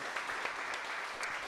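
A live audience applauds a band after a show, a dense, steady patter of many hands clapping at moderate distance for the full moment, without talk over it.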